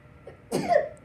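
A single sharp sneeze-like burst in a classroom, sudden and fairly close, rising out of a quiet room and trailing off within about half a second.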